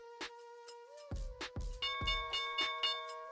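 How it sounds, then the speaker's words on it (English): The stock market opening bell rings in a rapid series of loud, bright metallic strikes that blend into a sustained ringing tone, with no talk over it. "Here's the opening bell."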